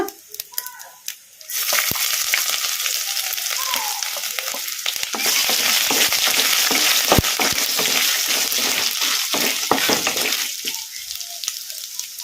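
Potato pieces fry in a pan for potato, fresh coconut and black pepper rice, with a loud continuous sizzle and scraping stirs that start after a quiet moment and die down near the end.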